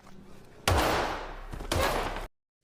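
Gunfire in a film scene: two loud, sharp bursts of shots with a short gap between them, cutting off abruptly into silence.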